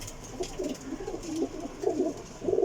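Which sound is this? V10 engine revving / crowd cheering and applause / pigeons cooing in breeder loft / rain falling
pigeons cooing in breeder loft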